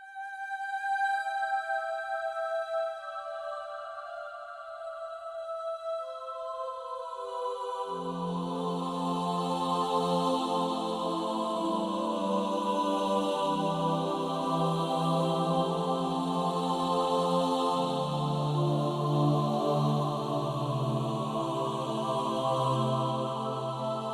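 A Korg Pa5X synthesizer keyboard plays a lush programmed patch, starting with high bell-like tones before fuller lower notes swell in and sustain for a long stretch.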